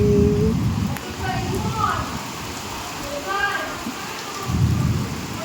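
Rain falling outdoors during a monsoon-style downpour, a continuous hiss under a low rumbling roar that swells at the start and end, with faint bird-like calls and voices partly heard in the background.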